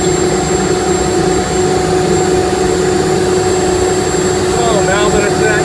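A Boeing T50 turbine engine runs loud and close as a steady high whine with a strong constant tone and a roar beneath it, lasting throughout with no talk.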